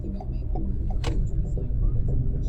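Car pulling away with a learner driver on a practice drive in Sudbury, Ontario: steady low engine rumble building slightly, with a brief mechanical knock and faint voices nearby.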